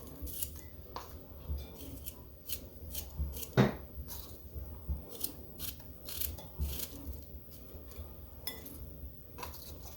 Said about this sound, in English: This one I'm going to cut in half here, lengthwise.